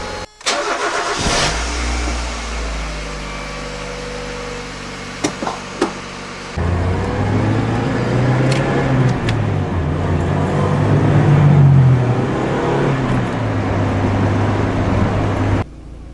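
A car engine after master and slave cylinder replacement, starting up with a clunk and settling into a loud, close idle whose RPM wavers and drifts up and down, with a few knocks and no talking.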